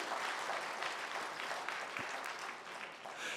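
A church congregation claps during an afternoon worship service; the applause is quiet and distant, a steady wash of hand claps lasting a few seconds.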